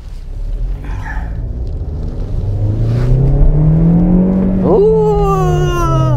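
A Geely GS without a turbo, about 11,000 km on the clock, pulls away from a standstill. The engine drone climbs steadily in pitch, dips at a gear change, then rises again, loud and close.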